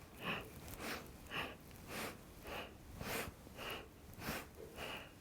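Pranayama breathing goes in a quick, steady rhythm of forceful nasal breaths, about ten in five seconds, close and fairly soft, with no talking.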